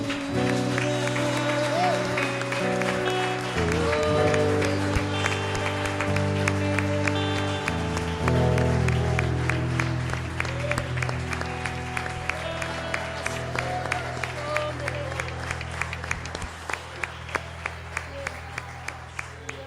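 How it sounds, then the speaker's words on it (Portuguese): Congregation in a church applauding the name of the Lord over sustained keyboard chords, rhythmic clapping growing steadier and louder toward the end, with music continuing underneath. "Você pode aplaudir o nome do Senhor?"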